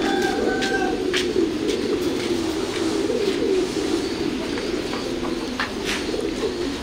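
Domestic pigeons on a pigeon-breeding farm with young squabs coo in a steady, overlapping low murmur that runs throughout, with a few brief higher chirps and clatters over the top.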